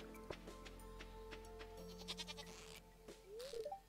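Goats bleat on a farm in the video game Stardew Valley, several short, faint bleats over quiet game background sounds.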